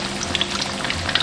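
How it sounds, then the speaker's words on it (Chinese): Tofu deep-fries in hot oil with a dense, steady crackle and bubbling, close and uninterrupted. "我们先不要去翻动它，让它一面炸至定型。"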